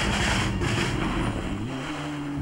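Rally car racing along a slippery stage of the 1995 Rallye du Var, its engine a steady, loud drone that eases slightly toward the end, with no voices.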